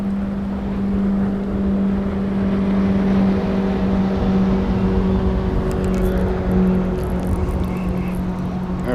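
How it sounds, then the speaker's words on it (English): Motorboats on the Wolf River in Fremont, Wisconsin, a continuous loud engine drone with steady low hum, wind and water noise underneath, passing close by without pause. "it coincided with the insane boat traffic that picked up in the last hour"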